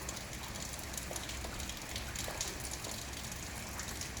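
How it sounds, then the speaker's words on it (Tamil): Rain pours down in a steady, dense hiss of falling drops, constant and even throughout with no voices. "ஒரு மழை துளிக்கும் இடைவெளி சிறிது அளவு இருந்து கீழே கொட்டுது பாருங்கள் மழை"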